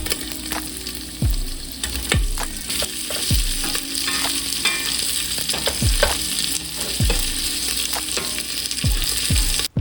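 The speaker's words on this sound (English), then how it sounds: "add in your sausage. And then you're just gonna cook this and let it brown" Sausage browns in a pot for jambalaya with a continuous loud sizzle. Low knocks of a spoon against the pot recur every second or so as it is stirred. No talking.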